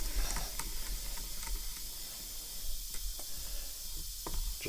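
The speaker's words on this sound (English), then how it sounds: "Here at the bench, I'll use a speed wrench a lot of the time." A speed wrench tightens a part on a Remington 11-87 shotgun at a workbench, giving soft repeated ratcheting clicks close by under a steady hiss, with no talking.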